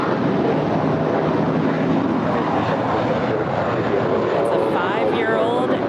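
An airliner, an American Airlines flight, takes off from runway 25 right at LAX, a loud sustained engine roar with wind rumble filling the whole stretch while someone talks over it.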